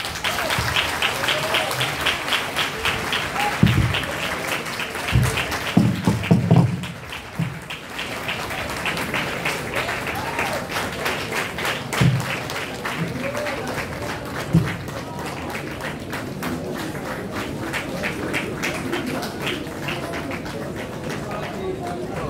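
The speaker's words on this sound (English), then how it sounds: "I think we can do better to give him a round of applause." Audience at a university annual lecture in obstetrics applauds the guest speaker with steady, dense clapping that carries on throughout, while voices talk over it.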